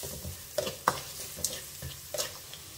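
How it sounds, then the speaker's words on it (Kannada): Onions frying in a pan with salt and turmeric, stirred by a utensil as they cook for a cabbage and capsicum khara bath; soft sizzle under a few scraping knocks, with no talk. "ಸ್ವಲ್ಪ ಹೊತ್ತು ಈರುಳ್ಳಿ ಫ್ರೈ ಆಗಿ."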